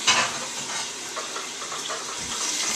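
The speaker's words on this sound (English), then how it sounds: "So I'm just cooking some chicken, skinless, boneless chicken breasts, and a little bit of olive oil" Skinless, boneless chicken breasts fry in a little olive oil with a steady close sizzle and crackle, plus a brief louder burst at the start and faint stirring noises.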